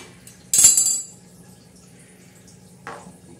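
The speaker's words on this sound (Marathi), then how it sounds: "हे बघा असं गरम पाणी टाकून द्यायचं चिकनमध्ये शिजण्यासाठी।" Hot water is poured into chicken cooking in a pot: a sharp splashing burst, then a quieter stretch with faint bubbling, and a second shorter pour near the end.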